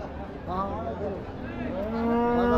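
A cow lows at a busy village cattle market, a drawn-out moo rising and holding, close and clear over a low murmur of background noise.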